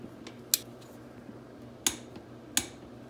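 A torque wrench gives three sharp metallic clicks, spaced unevenly, while a bolt on a Honda ATC 200X swingarm is tightened to 18 foot-pounds, close and crisp over a quiet background.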